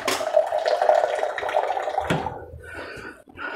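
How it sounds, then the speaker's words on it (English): Water poured into a cooking pot of mutton soup with vegetables over a high flame, a steady splashing pour lasting a couple of seconds before tapering into quieter trickles and small clinks. "Add some water, we'll cover it with water."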